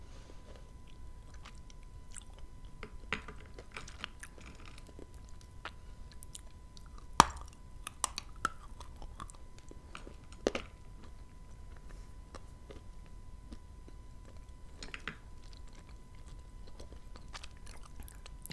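Dried prunes from Kyrgyzstan being bitten and chewed up close, with soft sticky squishes and occasional sharper crunchy bites scattered over a quiet background.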